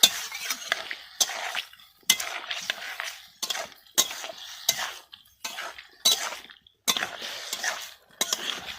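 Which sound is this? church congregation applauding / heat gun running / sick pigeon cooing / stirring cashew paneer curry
stirring cashew paneer curry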